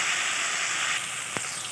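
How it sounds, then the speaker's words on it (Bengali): Fenugreek seeds and dried red chilies sizzle in hot oil as spices are fried for a fish and broad bean curry, a steady close hiss that eases slightly, with one brief soft knock near the end. "মশলাটা একটু কষিয়ে নেব"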